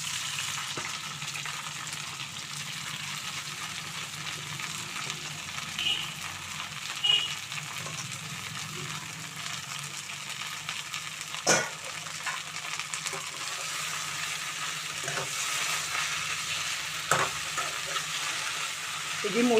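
Red gongura (sorrel) leaves cooking in a pan for chutney, a steady soft sizzle and frying hiss with occasional stirring clicks and scrapes throughout.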